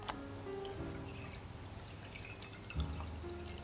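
Distilled water is poured slowly into a container on a scale while being weighed for soap making, a faint, quiet trickle with occasional drips in a calm room.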